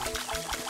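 Watering plants with a watering can in the video game Staxel: a short, steady stream of water trickling and pouring, fairly quiet and unbroken.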